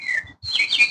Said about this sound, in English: But I love these birds.